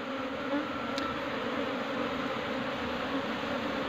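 Honey bees swarming in a steady, dense buzz as a colony is shifted from a trap box into a hive box, the insect drone close and continuous throughout with no talk.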